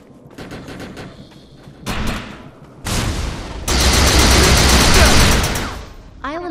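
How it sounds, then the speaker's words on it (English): Gunfire from overcharged weapons hits a decoy projection in the video game Defiance. Rapid shots open the clip, a heavy sustained burst of fire builds, and a ringing electronic tone ends it. The sound is loud and close. "Shoot the projection while overcharge is activated."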